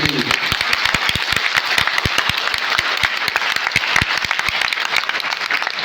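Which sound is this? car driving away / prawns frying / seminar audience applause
seminar audience applause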